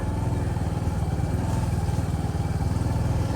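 A motorcycle engine runs steadily at a constant, throbbing pitch, close by and fairly loud, with no talking.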